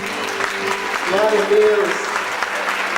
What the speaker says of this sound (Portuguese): Todos que acreditam podem aplaudir o Senhor.